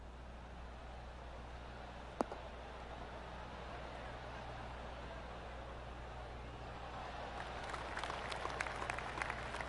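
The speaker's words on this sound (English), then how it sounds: "That deserves a golf clap" A crowd in the golf video game PGA Tour 2K21 gives soft, scattered golf claps after an approach shot, faint over a steady ambient hiss and growing slightly busier toward the end.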